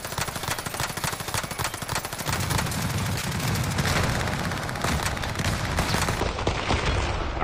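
Rapid bursts of automatic gunfire in a first-person shooter game, dense and continuous throughout, with sharper, heavier volleys in the second half.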